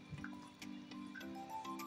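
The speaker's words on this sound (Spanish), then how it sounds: "Ahora mezclamos todo muy bien" Wet, squishy mixing of a flour and cornstarch batter into chicken wings, soft drips and sloshes up close over a steady low hum, with no talking.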